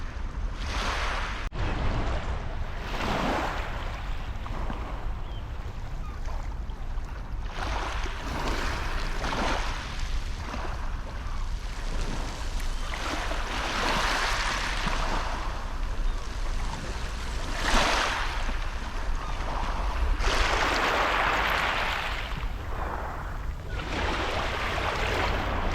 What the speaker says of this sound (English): we're going to just chill, watch the waves for a minute.